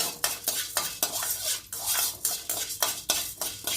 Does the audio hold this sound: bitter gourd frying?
yes